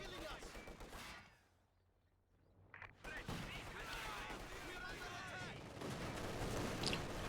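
An artillery barrage in a video game, a dense roar of rapid explosions and gunfire that drops out briefly and then returns, loud and continuous, with a voice talking over it.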